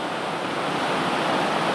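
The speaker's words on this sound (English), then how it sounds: "You're looking at the cascades" Rushing water of creek cascades tumbling between a cave outlet and a waterfall on Lost Creek in Tennessee, a steady, dense, broadband roar with no pauses, close and continuous throughout.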